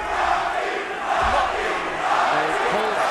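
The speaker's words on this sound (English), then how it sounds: "he pulls Rocky down as the crowd starts chanting Rocky" Boxing arena crowd at a Lomachenko versus Roman "Rocky" Martinez fight, a loud sustained roar with rhythmic chanting rising through a dense wash of crowd noise.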